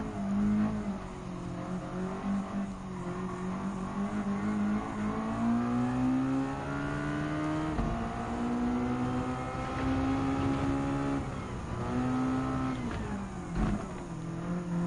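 Race car engine howling at sustained high revs around a track in Gran Turismo 7, with rising and falling pitch through gear changes and corners, loud and continuous, no talking.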